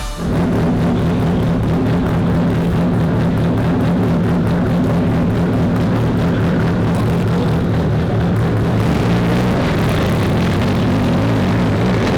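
Time attack race car pulling out of the pit gates onto the track at full power on brand new tyres: a loud, continuous engine drone with a steady low hum and rough texture that holds for the whole stretch, no voices.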